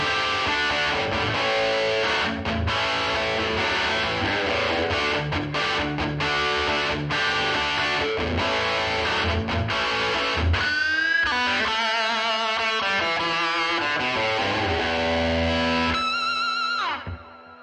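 Distorted electric guitar through a Line 6 Pod Go modeled Bassman amp with tape delay and tile reverb plays loud chugging rhythm chords, then single ringing notes that trail off in echoing delay repeats.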